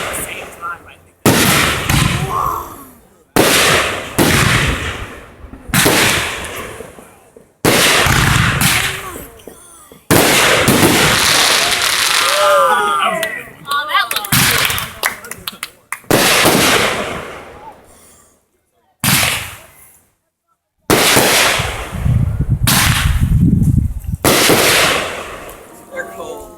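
Backyard July 4th fireworks and firecrackers burst loudly in repeated sharp explosions and crackling volleys, some in quick succession, with short quiet gaps between them and people talking and reacting nearby.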